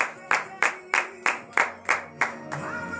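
A congregation at a morning prayer service claps in acclamation: about eight sharp, evenly spaced claps at a steady rhythm, then softer scattered clapping at the end.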